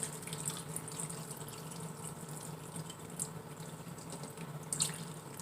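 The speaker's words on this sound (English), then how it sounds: "now I'm going to fill this up with water" Tap water running into a pot for soup, a steady splashing stream with a few sharper drips and clinks near the end, close and moderately loud, with no talking.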